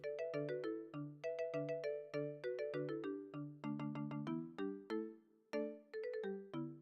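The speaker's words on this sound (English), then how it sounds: "Is this the Chinese tone ringtone you use?" A bright Chinese-style ringtone melody of plucked, bell-like notes repeats in quick phrases, clear and steady with no talking over it.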